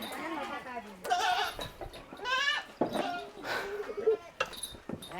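Several goats bleat nearby while eating fodder, in loud, wavering cries, one after another, with overlapping calls and some rustling between them.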